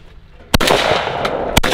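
Two shotgun blasts fired at clay targets during an outdoor shoot, each a loud, sharp crack followed by a lingering rolling echo, the second about a second after the first, with no talking.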